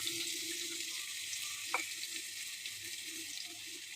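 Finely chopped shallots fry in hot oil for mushroom gravy, a steady close hiss and sizzle with one brief sharp clink from a utensil, and no voices.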